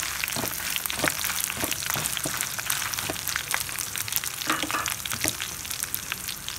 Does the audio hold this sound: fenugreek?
yes